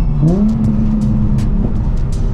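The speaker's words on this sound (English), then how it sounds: "Oh man, the downshifts in this thing." A Nissan 350Z HR downshifts with a quick rising throttle blip, then settles into a loud, steady engine hum with light road noise throughout.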